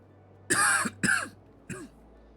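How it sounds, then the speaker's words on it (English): Three quick bursts: two harsh throat-clearing coughs close together, then a softer, shorter cough after a brief pause, close to the microphone. "Wish this cough would piss off already. I'm not even coughing up anything."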